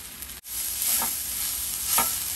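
A dry bhaji of colocasia leaves is stirred in a pan, giving a close sizzling hiss with two soft scraping strokes after a brief drop in sound, and no voices.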